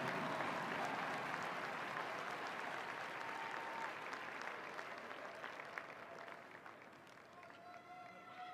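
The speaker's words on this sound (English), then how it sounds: "How about another round of applause for the Western Carolina University Pride of the Mountains drumline?" A large stadium audience at the 2022 Bands of America Grand National Finals awards applauds the Western Carolina University Pride of the Mountains drumline. The clapping and cheering is dense and sustained, then slowly fades while faint voices carry over it.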